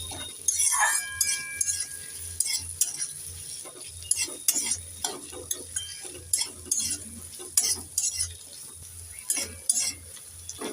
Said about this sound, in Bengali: এবার নেড়ে চেড়ে সব উপকরণগুলোকে ভালো করে ভেজে নেব আমি